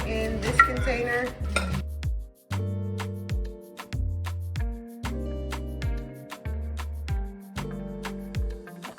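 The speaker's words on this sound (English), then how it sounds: "now we're gonna put our plant-based meat in this container." Plant-based gyro meat being set into a container, repeated hard clunks and knocks of a utensil against the container roughly every second, each with a short resonant ring, close and clear with no talk.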